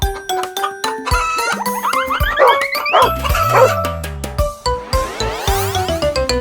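A puppy barking in a children's farm animal song, with repeated high yips and barks over bouncy electronic music and sliding cartoon sound effects, loud and close.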